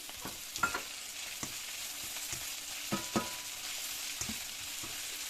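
Bread poha frying with green peas in a pan: an even, steady sizzle broken by a dozen or so soft scrapes and knocks of a spatula stirring, close and moderately loud, with no voices.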